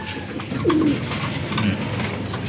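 A pigeon coos softly a couple of times, low and brief, over a muffled background of outdoor noise.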